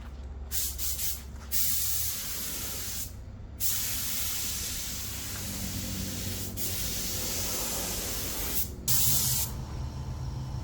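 Inokraft Drizzle spray gun laying a coat of paint on a Ford fender, driven by a small compressor at about 20 PSI: a steady loud hissing spray running almost continuously, broken by a few brief pauses between passes.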